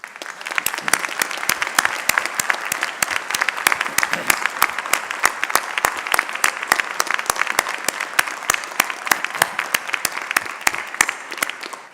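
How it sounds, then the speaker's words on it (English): An audience at a Dalhousie University Faculty of Agriculture spring convocation applauds steadily, dense clapping from a large crowd sustained for the whole stretch without letting up. "let's give them a round of applause."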